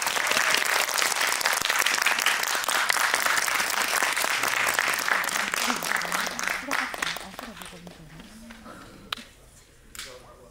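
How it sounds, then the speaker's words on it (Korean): Loud audience applause at a film screening talk event as the directors and an actor arrive, a dense clatter that gradually thins and fades while people begin talking underneath. "큰 박수로 맞이해주세요."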